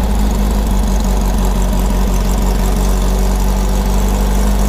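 A VW rail buggy engine runs steadily and loudly with a deep, constant drone and rumbling vibration close by, no speech.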